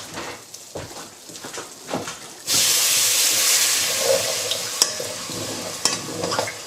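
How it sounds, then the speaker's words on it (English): Cold water hits a hot pan of browned beef for a pepper and beef casserole: a few scraping stirs, then a sudden loud sizzling hiss of steam that holds steady, dotted with sharp clinks and spatters. "We're going to deglaze that pan a little bit with some cold water."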